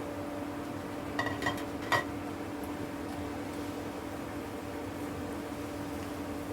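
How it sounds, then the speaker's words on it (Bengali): Grated coconut filling for chandrakala pitha is stirred in a pan. A few spoon clinks and scrapes come early over a soft, constant hiss. "এটাকে আমি নেড়ে এটা পুর তৈরি করে নিব শুকনো শুকনো করে"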